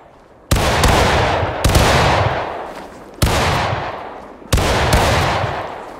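Musket volleys from a company firing by files in War of Rights, four loud crackling discharges a little over a second apart, each one rolling and echoing away across the field, with no talk over them.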